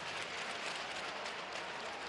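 Steady applause from an arena audience at a men's pommel horse final of the 2025 Doha gymnastics World Cup, a dense, even wash of clapping filling the whole moment with no pauses.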